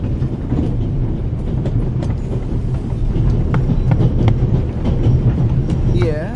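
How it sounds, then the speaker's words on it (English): Steady rumble and rattling clatter of a moving Orient Express train heard from aboard, continuous and fairly loud with faint clicks throughout and a brief squeal near the end. "The noise on this train is driving me crazy."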